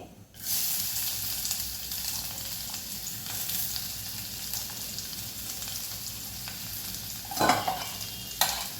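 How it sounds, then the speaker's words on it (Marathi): Finely chopped onion dropped into a kadhai of hot oil, a sudden sizzle that settles into a steady hiss and crackle, with a couple of sharper stirring scrapes near the end. "आपल्याला बारीक चिरलेला कांदा घालायचा आहे"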